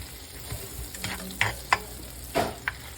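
Homemade sourdough bread toasting in a pan, a soft background sizzle broken by several sharp scraping and clinking sounds of a spatula moving the bread, spaced unevenly across a few seconds.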